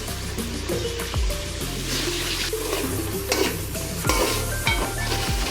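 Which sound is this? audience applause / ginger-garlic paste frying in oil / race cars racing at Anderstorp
ginger-garlic paste frying in oil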